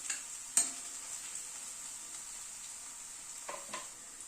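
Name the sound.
garlic being stirred and fried in a pan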